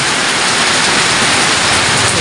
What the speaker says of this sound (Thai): วันนี้ก็ฝนตก